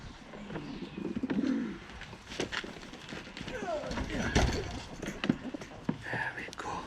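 Pigeons being handled during bird marking, with soft cooing and fluttering, scuffling movement mixed with close handling noises, while people talk throughout.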